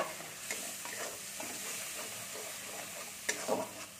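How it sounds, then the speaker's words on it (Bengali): Chilli and cumin powder masala fried with a little water for an egg and cauliflower curry, a close, steady sizzle under repeated scraping strokes of a spoon stirring in the pan. "দিয়ে এটাকে একটু জল দিয়ে দেবো, দিয়ে আমি ভালো করে একটু মশলাটা করে নেব।"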